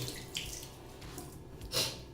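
Tap water runs steadily into a sink while a Face Halo makeup-removal cloth is wetted under it, with a soft ongoing splash and a brief louder gush near the end, close by and with no talking.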